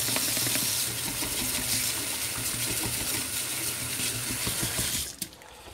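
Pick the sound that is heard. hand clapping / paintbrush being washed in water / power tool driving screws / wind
paintbrush being washed in water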